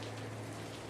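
Steady rain falls at night, a dense, even hiss with a low constant hum beneath, unbroken and without any voices.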